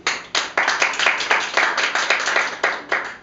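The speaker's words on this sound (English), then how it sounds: "If so, applaud now" A small audience claps in rhythm at a storytelling performance, about a dozen distinct sharp claps in a steady, close beat, with no voices over it.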